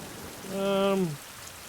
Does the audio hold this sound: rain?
yes